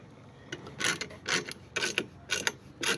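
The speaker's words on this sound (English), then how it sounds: "Now I'm using an 18 millimeter wrench here." An 18 mm wrench tightens bolts on a commercial vacuum cart transport rack, giving repeated short ratcheting, rasping strokes in an irregular rhythm, close and fairly loud, with no talk.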